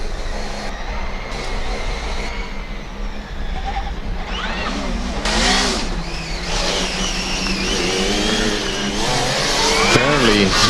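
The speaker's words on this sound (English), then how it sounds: "This car sounds really good too." A Formula Student race car pulls out onto an autocross track, its engine revving loud and close with rising and falling pitch sweeps over steady background noise.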